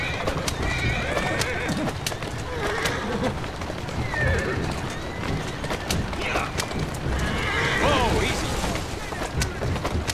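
Horse neighing and galloping in a video game, with rapid hoof clip-clops running steadily throughout and several loud whinnies rising above them, set against game music and effects.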